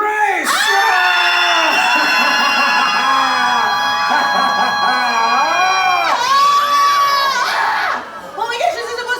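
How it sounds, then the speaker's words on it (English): A theme park audience at a horror make-up show screams along together in a loud, sustained chorus of mixed adult and children's voices, swelling and breaking into scattered shrieks near the end. "Everybody scream along."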